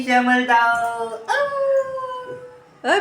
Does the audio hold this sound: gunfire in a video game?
no